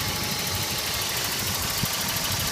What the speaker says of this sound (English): You can just see and hear the engine sounds perfect.